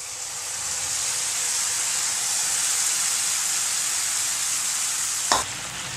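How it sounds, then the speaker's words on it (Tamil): Steady loud sizzling and hissing as tamarind water is poured into a hot pan of sautéed tomatoes, continuous throughout, with a brief sharp clink near the end. "புளியை கரைச்சி ஊற்றிடும்"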